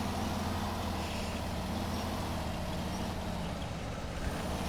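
A Kenworth truck engine in SnowRunner drones in a steady, loud, dense rumble with constant low harmonics and no speech.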